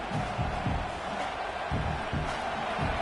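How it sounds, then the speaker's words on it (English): A fired-up crowd at a youth football game roars in a dense, loud, continuous wash of cheering and yelling, with rhythmic low chanting pulses beneath, heard from within the stands. "It's early, but this crowd is fired up. Listen to this noise here."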